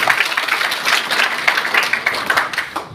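Lively clapping from a modest crowd at a company event honouring its founder. Distinct hand claps pulse over a continuous patter, close and fairly loud, and taper off at the end.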